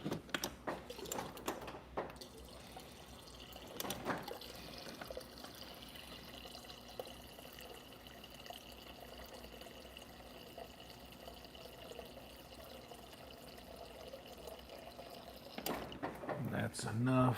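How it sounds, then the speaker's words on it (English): Water pours into a pan on the stove while cooking hamburger steak and onions, a steady faint stream running for several seconds, with clatter at the start and end. "Go top this guy off with a little bit more water."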